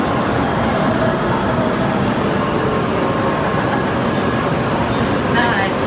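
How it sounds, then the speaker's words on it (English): A loud train in Japan rushes past close by, a continuous roaring rumble of wheels on rails with a faint metallic squeal toward the end. "A train just went that way."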